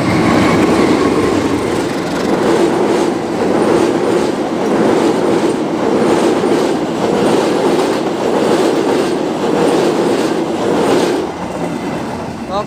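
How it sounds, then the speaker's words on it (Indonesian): A Bandung Raya local train hauled by a CC 203 diesel locomotive departing a station on a foggy morning, a loud continuous rumble with rhythmic wheel clatter over rail joints, close by throughout. "ini dia kereta api lokal Bandung Raya sudah berangkat di lepas stasiun Horpukur. Menggunakan lokomotif CC 203."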